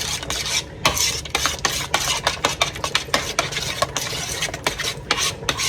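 Spoon stirring and scraping through shredded cabbage mixed with sour cream in a bowl, a steady run of close, wet rasping strokes with no talk.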